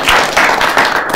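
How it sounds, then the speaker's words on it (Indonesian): Several bursts of hand clapping from a group, loud and close, rising and falling in quick waves with no talking. "tepuk tangan buat Mbak Ayu"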